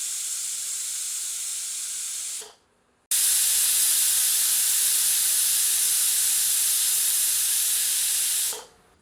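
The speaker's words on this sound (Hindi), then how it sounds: "प्रेशर कुकर को भाप मुक्त करते हैं।" Steam blasts from a pressure cooker releasing pressure after cooking mutton, a loud steady hiss that cuts out briefly and then resumes at full force before stopping.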